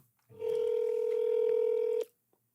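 A single steady telephone tone rings out for about a second and a half, clear and close, then stops abruptly, with faint sounds around it, as a call goes out to reach a manager.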